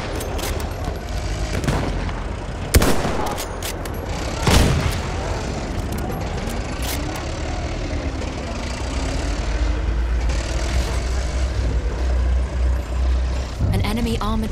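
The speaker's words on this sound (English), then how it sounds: "There! Enemy machine gun!" Battle din from a Battlefield 1 multiplayer match: sharp gunfire cracks and heavy booms burst out against a steady wash of combat noise, with voices coming through now and then.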